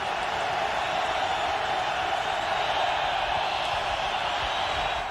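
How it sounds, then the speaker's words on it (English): Stadium crowd at a 1996 NFL night game, Seattle Seahawks at Jacksonville Jaguars, a steady dense roar of many voices filling the air without pause, loud and continuous throughout. "The crowd really getting into it."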